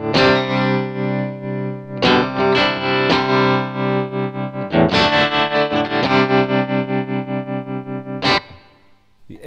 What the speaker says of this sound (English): This is the ham mode.